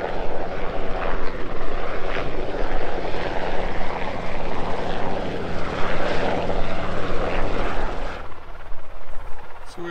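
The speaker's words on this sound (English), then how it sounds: "There's a helicopter coming in." A helicopter drones loudly with a continuous rotor thump, close and steady, then cuts off sharply near the end.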